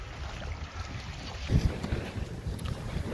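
Steady wind rushing past a sailboat moving at just over 4 knots at sea, a continuous broad roar with low buffeting gusts and some water wash, no voices.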